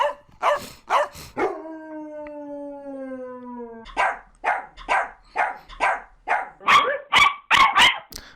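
Guard dog barks and howls triggered as a stream alert sound effect: a series of sharp, loud barks, then a long drawn-out howl, followed by a rapid run of barks and yips, with no talking.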